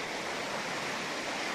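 A swollen river rushes past in a steady, broad roar of churning water, unbroken and fairly loud throughout the short stretch, with no voices.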